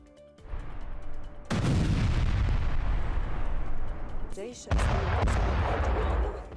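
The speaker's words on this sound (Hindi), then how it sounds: "सीरिया में राष्ट्रपति के महल पर भीषण बमबारी की गई।" Israeli bombing strikes in Syria, at the presidential palace, send out heavy, sustained roaring blasts, with a loud sudden burst followed by a long rumble, a brief lull, then another powerful explosion that rolls on.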